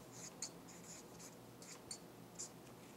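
Pen or chalk writing out an example word during a Portuguese grammar lesson, quiet scratchy strokes with a few sharper ticks, no talking.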